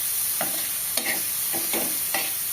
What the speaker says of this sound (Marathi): तेल पुन्हा थोडंसं टाकलेलं आहे आणि मशरूम देखील मी परतून घेत आहे.